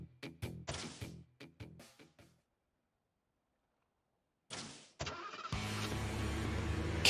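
A car engine in the video game Trails to Azure revs up and roars loudly as the vehicle speeds off, after a run of short clipped game sound effects and a stretch of silence.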